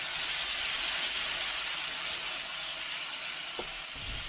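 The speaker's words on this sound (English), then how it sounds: "Now just pour a little bit of this beef broth on there." Beef broth hisses and steams on a hot Blackstone griddle while cooking Philly cheesesteak meat, a loud continuous sizzle with no talking.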